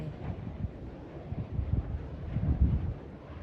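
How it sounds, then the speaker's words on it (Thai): Strong wind blows across an open field on a rainy evening, a steady low rumbling buffet on the microphone that swells and gusts throughout, with no voices. "ลมแรงมากเลย"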